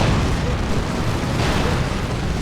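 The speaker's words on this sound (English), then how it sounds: "A rocket run as well." A rocket run strikes in a Warhammer 40,000: Dawn of War 2 battle between Imperial Guard and Chaos Space Marines, a dense rolling rumble of blasts that stays loud and continuous throughout.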